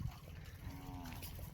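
Cattle on a village grazing outing being driven to a pond, with a single drawn-out moo rising in the middle of a steady low outdoor rumble of the moving herd.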